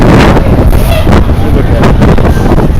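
Strong wind buffeting an outdoor microphone, a loud continuous low rumble with gusty surges throughout, under faint talk.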